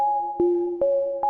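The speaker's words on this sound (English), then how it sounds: "This is just a sine wave, and then I've pulled down the sustain and the decay so it gets this pluggy sound." Plucky sine-wave synth from Vital played dry without effects, with four clean tonal notes each starting on a soft click, a sustained pitch shifting between notes at an even pace, close and moderately loud.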